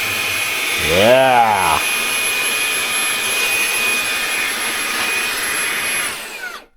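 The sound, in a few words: Fanttik Slim V8 handheld vacuum running in turbo mode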